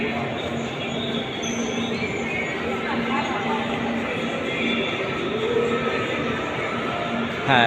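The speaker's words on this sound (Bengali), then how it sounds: "ট্রেন মনে হয় চলে আসছে" A train pulls into a station in Portugal, a steady broad rumble of rolling carriages with faint squealing wheels, while people talk nearby throughout.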